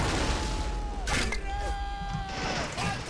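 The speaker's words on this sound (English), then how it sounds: "Mortars." Mortar fire in Men of War: Assault Squad, with several thudding blasts and crashes amid a sustained battle din, and a voice talking over the fighting.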